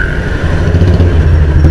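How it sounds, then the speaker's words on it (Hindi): Dense road traffic roars close by at a railway gate in Sasan Nagar, Handewadi, with a steady loud engine rumble and a rising whine of passing vehicles. "ये इतना बुरा बुरा ट्रैफिक है"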